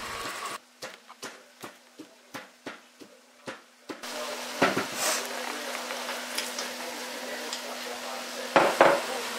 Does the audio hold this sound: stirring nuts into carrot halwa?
yes